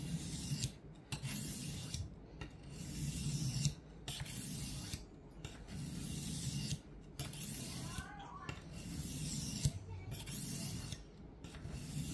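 A bushcraft knife blade drawn across a sharpening stone in long, steady rasping strokes, repeated about a dozen times with brief gaps between them, close but quiet.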